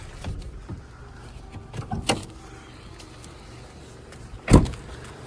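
The panoramic sunroof of a 2008 Renault Scenic II minivan with a 1.6 petrol engine opens with a quiet electric motor whir, scattered light clicks and a sharp clunk near the end, without talk.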